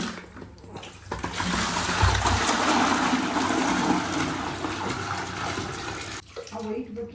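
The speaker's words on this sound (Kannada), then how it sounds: "ಇವಾಗ ನೋಡಿ ಈಗ ತಗತ್ತಲ್ಲಿ ನೀರು ಮುಳುಗಿಸಿ ಹಂಗೆ" Water scooped from a bucket at home and poured, giving a continuous close splashing, gushing wash for several seconds, with a voice briefly heard nearby.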